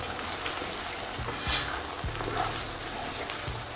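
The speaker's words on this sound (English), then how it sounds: "Just let that simmer for around a minute." Thick bolognese sauce with bay leaves simmering and bubbling in a pan, a steady close sizzle with soft stirring scrapes and occasional pops, no voices.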